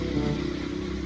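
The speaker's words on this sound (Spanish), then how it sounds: "Moto." A motorcycle engine runs with a steady droning rumble, loud and close, holding an even tone throughout the brief moment with no voices.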